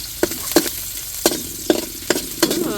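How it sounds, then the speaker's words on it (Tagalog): Onions sautéing in a hot pan, a gentle sizzle broken by about six crisp scraping strokes of a spatula stirring them at an uneven pace. "Nilagay na po ang sibuyas."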